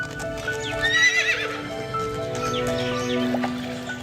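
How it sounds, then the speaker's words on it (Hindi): A horse sound effect plays loud and close: rapid clip-clop hoofbeats of galloping horses run throughout, and a high neigh rises near the start. "सुलेमान की विशाल सेना थी जिसमें हजारों रथ और घोड़े थे।"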